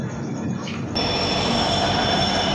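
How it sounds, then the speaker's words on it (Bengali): An express train rolls into Bandel station, giving a steady, fairly loud rumble and wheel noise with a faint high squeal, heard from on board and with no talking. "এই আমাদের ট্রেন ব্যান্ডেল ঢুকছে।"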